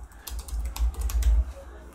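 Typing on a computer keyboard, a quick run of light clicking keystrokes close by, with low background hum underneath.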